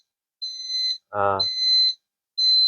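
Sari-sari store alarm sensor giving two long, loud, steady high-pitched beeps with a pause, then a third starting at the end; a short voice exclamation sits in the gap between them.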